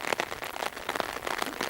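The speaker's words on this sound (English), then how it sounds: "it's been absolutely brutal in that rain" Heavy rain falls outdoors on Lechrea Hill in Glen Almond, a rough hiss broken by gusty, uneven surges that swell and fade every fraction of a second, close and fairly loud.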